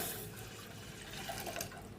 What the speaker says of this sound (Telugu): ఏ కప్పుతో అయితే మనం రైస్ తీసుకున్నామో అదే కప్తో 4 కప్స్ అనేది నేను పాలు పోస్తున్నానండి